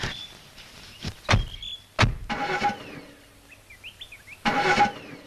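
A Mercedes-Benz car heard close by: two sharp thumps, then whirring mechanical bursts like power windows or a starter, with birds chirping faintly in the background between them.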